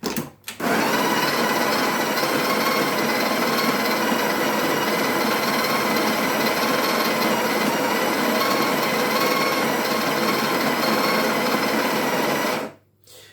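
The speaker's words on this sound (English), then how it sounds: "we're going to put the portafilter into the grinder, and this automatically, when you let go, it automatically gives you a dose" A Sage electric coffee grinder runs continuously for about twelve seconds as it doses ground coffee into a portafilter for a double espresso, a loud steady whirring grind that starts and stops abruptly.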